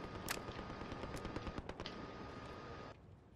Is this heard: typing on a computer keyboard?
no